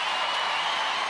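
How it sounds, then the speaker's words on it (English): Broadband applause from a studio audience at a 1996 UK Gladiators arena event, steady and dense throughout the brief moment with no pauses. "Let's have a big round of applause for Marisa and for"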